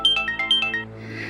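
A mobile phone rings with an incoming call: a bright electronic ringtone of about seven quick rising and falling notes, clear and moderately loud, then a brief fade into quiet room tone.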